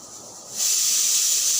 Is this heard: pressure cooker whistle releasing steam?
yes